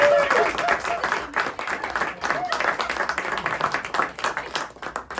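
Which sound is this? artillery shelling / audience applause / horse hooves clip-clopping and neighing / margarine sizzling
audience applause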